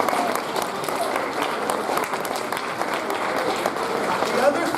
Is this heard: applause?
yes